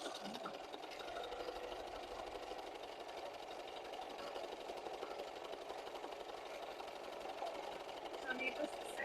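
An embroidery machine stitches at a quilt shop, giving a continuous fast mechanical whir and needle rattle that runs steadily throughout, with people talking over it.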